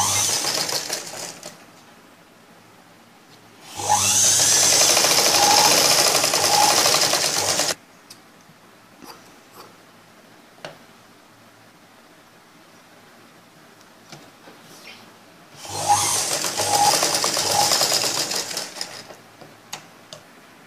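A sewing machine stitches a blouse strap on the left side in two loud bursts of rapid, even needle clatter, each lasting about three to four seconds, separated by quieter handling noises.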